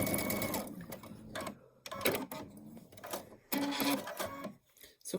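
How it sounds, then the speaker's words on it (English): Close, loud sewing machine runs in short bursts with brief stops as a few reverse stitches are made on tartan fabric for a wreath, then it sews on to the end. "I do a couple of reverse stitches, and then sew off the end."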